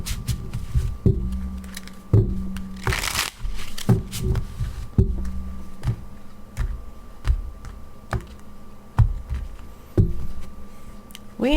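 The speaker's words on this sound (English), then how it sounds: "Okay, a couple more shuffles." Tarot cards being shuffled by hand, a sequence of sharp riffling bursts and soft taps recurring roughly every one to two seconds, close and clear against a low steady background hum, with no one speaking.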